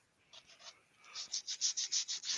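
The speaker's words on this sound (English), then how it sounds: "there's some hand sanding going on" Hand sanding on an ash wood vase on a woodturning lathe gives a run of soft, rhythmic rubbing strokes, faint at first, then about ten steady, evenly spaced passes that grow louder and closer.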